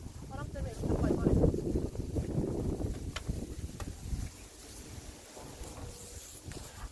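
Strong gusty wind buffets the microphone at a seaside fishing camp in Yeosu, roaring loudly throughout with talk from people mixed in and a few faint knocks.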